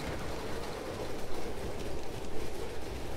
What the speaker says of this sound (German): Da hinten fährt inzwischen der ICE wieder los.